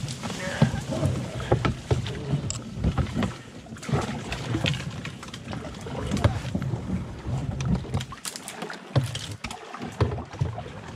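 Canoe paddles splash and knock while paddling along an Ontario river, with wind buffeting the microphone and people talking over the irregular strokes.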